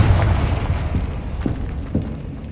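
Confringo explosion spells in Hogwarts Legacy, with deep booming bursts, a few distinct thuds spaced about half a second apart over a rumbling low backdrop.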